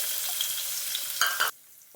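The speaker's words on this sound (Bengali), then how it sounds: "ভাজার তেলটা দিয়ে দিলাম, অল্প তেল দিব। পেঁয়াজ কুচি দিয়ে দিব," Chopped onions fry in a little oil in a pan, giving a loud, close, bright sizzle. Near the end it swells with a couple of stirring bursts, then drops suddenly to near quiet.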